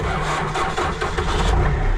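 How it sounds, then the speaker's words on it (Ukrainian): A tractor engine cranks and fires up, heard from inside the cab as a loud, steady mechanical rumble that runs throughout with no voices. "Тепер я як настоящий як этот, тракторист можу заводити трактор з кабіни."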